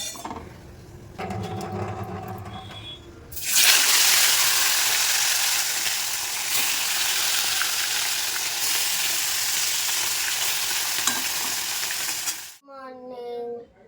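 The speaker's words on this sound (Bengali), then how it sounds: "চলো মাছ ভাজা বসো" Fish drops into hot oil and sets off a loud, dense, continuous sizzle that holds steady for about nine seconds. It is heard close up, with a few clinks before and after and no talking.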